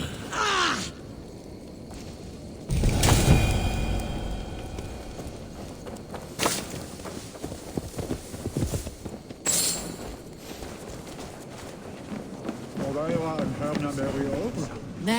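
Horse hooves clopping in Assassin's Creed Valhalla, a steady walking rhythm mixed with game ambience, bird caws and character voices talking over it.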